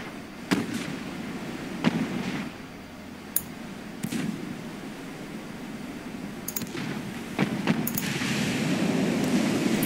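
Naval 3-inch guns firing in the Ultimate Admiral Dreadnoughts naval combat game, a string of sharp separate reports spaced irregularly over a low rumbling battle ambience that rises toward the end.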